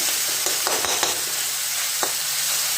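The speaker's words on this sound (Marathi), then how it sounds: "एकजीव होईपर्यंत आपल्याला चांगलं परतून घ्यायचं आहे शिजून पण घ्यायचं" Tomato and capsicum mixture sautéing in a pan gives a steady sizzle throughout, with a few scraping stirs of a spoon standing out near the start and once more later.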